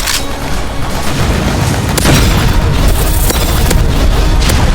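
Dense, continuous Roblox game chaos with a heavy rumbling low end and repeated sharp bursts of banana bomb explosions going off in quick succession, loud throughout.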